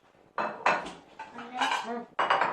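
Dishes and cutlery clatter close by in several sharp bursts, plates knocking together with ringing tones, no speech.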